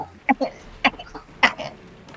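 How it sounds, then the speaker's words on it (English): A person coughs several times in short bursts, loud and close, with brief pauses between the harsh, throaty coughs. "Sounds more like me coughing than it does me crying."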